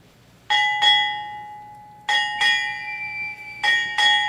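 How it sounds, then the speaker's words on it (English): A ship's bell struck six times in three quick pairs at a naval retirement ceremony, each pair of bright metallic dings left to ring out before the next. "Sound 6 bells."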